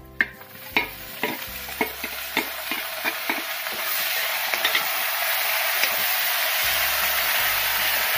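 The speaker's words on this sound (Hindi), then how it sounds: "हम इसको अदरक के साथ थोड़ा सा भूनेंगे ब्राउन होने तक।" Garlic and ginger fry in a pan with a steady, close sizzle. A spoon taps and scrapes through them in a regular rhythm for the first few seconds, then the sizzle carries on alone with no talking.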